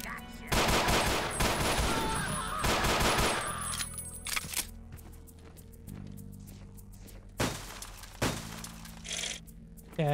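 Gunfire in the post-apocalyptic shooter Ashes 2063, loud dense bursts of shots with clattering impacts over the first few seconds, then quieter ambience broken by two more sharp single blasts, with footsteps.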